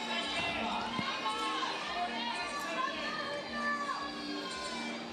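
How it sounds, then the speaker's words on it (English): A crowd of spectators cheers and chatters continuously at an ice climbing competition finals in Bern, Switzerland, a dense, steady wash of many voices with shouts rising and falling throughout. "it's always exciting to listen to every different nation cheering differently"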